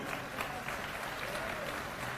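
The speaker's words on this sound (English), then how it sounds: "Thanks for the applause, but let's hold it." An audience at South Carolina State University applauds a speaker, a dense, steady wash of many hands clapping at moderate distance, sustained throughout without a break.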